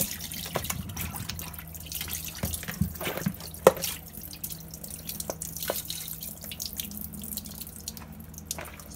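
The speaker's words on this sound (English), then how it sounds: "Drain off your water and thing." Water drains off during Jamaican curry goat prep, with faint drips and trickles into a sink and occasional soft splashes, fairly quiet and steady throughout.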